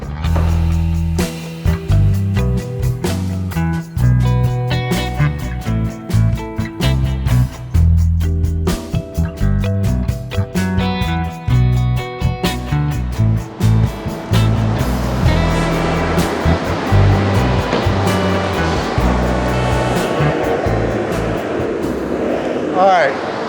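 A BMW F8X car engine runs on a dyno for a baseline pull before an exhaust swap, droning steadily and loud, then climbing in pitch and roaring harder toward the end of the run.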